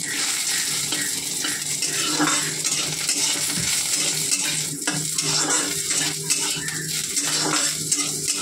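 Hilsa fish recipe ingredients fry and are stirred in a pan, with continuous sizzling and repeated scraping of a utensil against the metal, close and steady.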